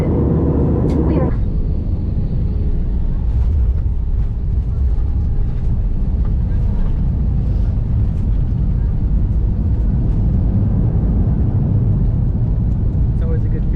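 Loud, steady cabin roar fills the passenger airplane as it lands, a constant low rumble with a sharp shift near the start and faint voices in the background.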